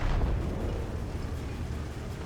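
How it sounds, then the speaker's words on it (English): Tank cannon fire in World of Tanks on the Karelia map, a deep booming blast with rumbling low-end decay that fades over a couple of seconds. "Bounces the return shot from the defender."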